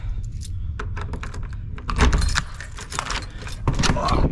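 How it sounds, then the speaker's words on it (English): A bunch of keys jangles and clinks continuously up close, with metallic rattles and louder bursts as they are handled during nighttime rounds, over a low background rumble. "keys."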